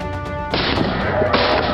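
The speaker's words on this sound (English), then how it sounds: "A member of the group quickly raised his gun, aimed, and pulled the trigger. The gunshot echoed in the forest." A rifle fires in a forest: a sharp crack followed by a broad, sustained burst of noise, then a second strong impact, loud and close with a ringing tail.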